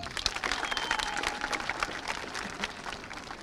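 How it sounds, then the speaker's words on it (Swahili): A crowd claps together at a secondary school construction inspection in Dar es Salaam, a dense, even patter of applause lasting a few seconds at moderate distance. "piga makofi"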